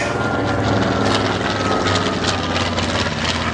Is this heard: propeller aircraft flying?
yes